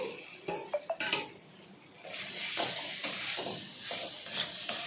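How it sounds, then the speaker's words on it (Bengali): Fried potatoes being stirred and sautéed with spice masala in a pan for ghugni, a few sharp utensil clinks followed by a steady close sizzle with scraping stirs, no voices. "আরও কিছুক্ষণের জন্য আলুর সাথে মশলাগুলো কষিয়ে নেব"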